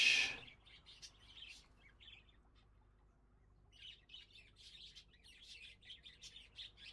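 Parrots in the Exotica Petshop Simulator game chirp and squawk in quick bursts, a sharp squawk at first, then scattered bright chirps that fade and return, faint and without talk.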